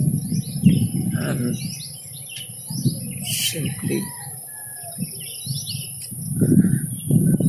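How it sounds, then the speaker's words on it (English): Birds chirping outdoors on Havelock Island in the Andaman Islands, repeated short high calls over a calm background with insect buzz, while someone speaks briefly nearby. "All you can hear are the birds chirping around"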